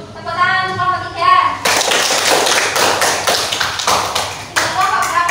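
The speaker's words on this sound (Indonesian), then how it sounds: "Tepuk tangan untuk kelompok 3." Classroom applause for a student group in an Indonesian lesson, a loud steady patter of clapping that follows a short stretch of voices and continues to the end.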